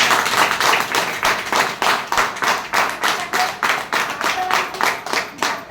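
Audience clapping in rhythmic unison, about three claps per second, loud and close and keeping a steady beat throughout.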